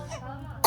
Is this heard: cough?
yes